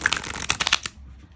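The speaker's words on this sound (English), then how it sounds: "Let's shuffle this beauty and see what card Spirit wants us to have." A deck of oracle cards is shuffled by hand in a quick burst of crisp riffling flicks, close and fairly soft, then it stops.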